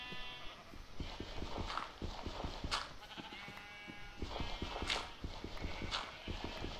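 Sheep bleating in Minecraft, several close, repeated bleats over a busy game background with footstep-like taps throughout.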